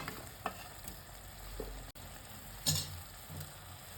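Cauliflower for gobi manchurian is stir-fried in a pan with green chili sauce, a low sizzle under scraping and clattering stirs, close and faint.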